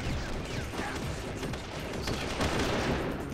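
Dense, continuous gunfire from Metal Gear Solid: The Twin Snakes, bursts of shots and mechanical clatter layered together at steady loudness throughout, with no talking.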